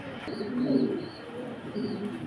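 Belgian racer pigeons give soft, low cooing in two short rounds, fairly faint and close by, with a quiet background between.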